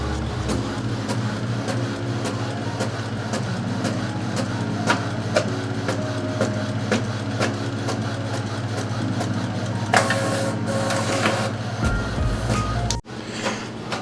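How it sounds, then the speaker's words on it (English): A Sawgrass SG500 sublimation printer prints continuously with a steady mechanical hum and repeated carriage clicks and shuttles, close and loud, ending with a sharp clunk near the end. "let's get these things printed out."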